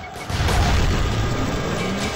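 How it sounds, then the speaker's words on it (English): Explosions in the video game Road of the Dead 2 give a loud, sustained rumbling boom with deep low-end energy that swells early and then holds as a dense roar for about two seconds, with no talking. "the explosions killed the mutants"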